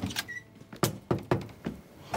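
Several sharp knocks on a door in an irregular sequence, close and moderately loud, with a short quiet gap between raps in a drama scene indoors.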